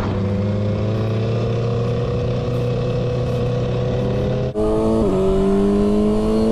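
A racing motorcycle engine holds a loud, steady high-pitched drone while its tyres warm up, then shifts abruptly to a higher pitch partway through, with no talking.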